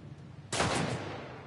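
A single loud gunshot from the game The Last of Us Part 1 Remastered on Grounded difficulty, a sharp blast with a short decaying tail after a quiet moment.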